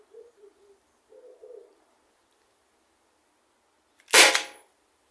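A Byrna SD launcher fires one sharp, loud pop after a quiet stretch with a few faint bird coos in the background.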